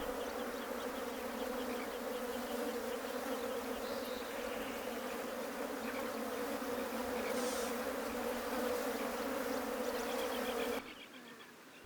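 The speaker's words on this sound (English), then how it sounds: "Flies try to gain access to the smallest crevices, not for feeding, but for laying eggs." Flies hum continuously close by around rotting carrion on the African savanna, a dense, steady insect drone with no voices, ending in a sudden cut.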